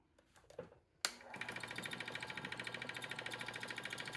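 A wood lathe with a faceplate-mounted piece switches on after some light handling noises, then settles into a loud, steady motor whir with a rapid rhythmic pulse from the spinning, slightly wobbling workpiece.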